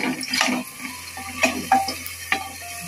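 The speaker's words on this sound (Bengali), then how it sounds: "এখন ভালোভাবে নেড়ে ছেড়ে একটু কষিয়ে নিব।" Onion, garlic and ginger paste stir-fried in oil inside a pressure cooker, with a steady close sizzle broken by several scraping stirs and light clinks of a utensil against the metal pot.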